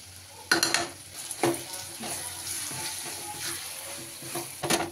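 Ginger and garlic frying in a pan, a steady close sizzle broken by a few sharp spoon scrapes and knocks against the metal.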